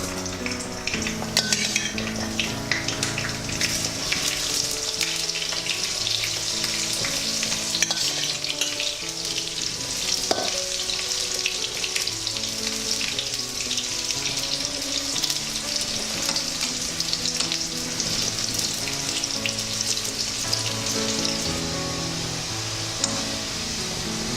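Salted brinjal pieces fry in hot oil with a continuous, vigorous crackling sizzle that holds steady and close for the whole stretch, with occasional light stirring clicks.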